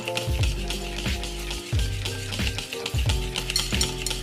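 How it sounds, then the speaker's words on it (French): Butter-free brownie batter being mixed in a bowl, a close run of repeated wet scraping and stirring strokes with a spoon or spatula knocking against the bowl, with quiet music underneath. "on mélange bien la préparation"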